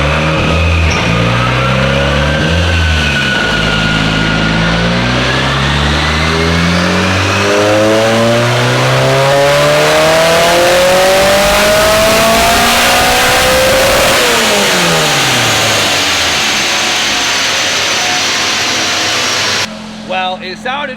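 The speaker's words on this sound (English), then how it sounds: "So let's spin it to 8K, and that will be our true baseline" Turbocharged K-series engine in a Scion FR-S on a dyno, loud and close, climbing steadily through the gears to an 8000 rpm wail before cutting off sharply.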